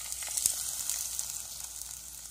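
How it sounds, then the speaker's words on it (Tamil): A tempering of mustard seeds and curry leaves sizzles steadily into vegetable kadaisal, a continuous hiss of hot oil with a few small pops and crackles. "நம்ம தாளித்ததை வெஜிடபிள் கொத்துல சேர்த்துடலாம்."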